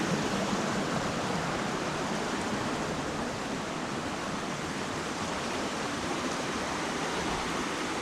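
Little Zigzag Falls, a small forest waterfall, roars as a steady broadband wash of falling water, close and continuous and unchanging, with no voices.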